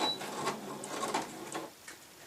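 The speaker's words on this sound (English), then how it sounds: "excuse the squeak, bring my sewing machine in" A sewing machine back-tacks and stitches along the end of cushion fabric with a small stitch, a faint, close mechanical ticking and whir with irregular light clicks and no voices.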